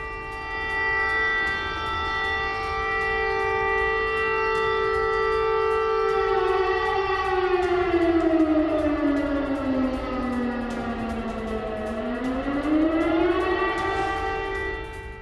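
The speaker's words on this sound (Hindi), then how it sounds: "पूरे कीव में एयर रेड अलर्ट जारी कर दिया गया है। वॉर सायरन किस तरह से बज रहे हैं आप सुन सकते हैं।" Air raid sirens wail across Kyiv during an alert, a loud sustained tone holding steady and then sliding down and back up in a long mournful sweep, with no voices over it.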